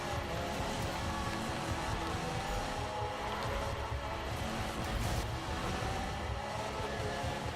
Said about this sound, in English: That's a nice drift.